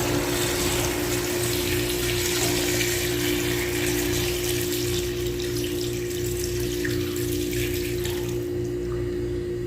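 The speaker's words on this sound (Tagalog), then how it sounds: "Lagyan na natin ng water o tubig." Water pours steadily into a cooking pot while sinigang with grouper head and yardlong beans is prepared, a constant close splashing rush that barely changes throughout.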